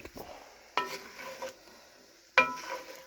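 A spoon stirs potatoes through a pot of stew made with leftover ribs, smoked bacon, meat, onions and carrots, giving three short scraping, sloshing strokes with quiet pauses between them.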